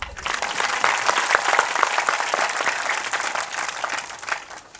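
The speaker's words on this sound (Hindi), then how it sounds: "वाह, ताली बजाओ।" An audience claps steadily at a religious gathering during a Braj yatra at Rasauli, a dense, sustained burst of applause filling the space without voices.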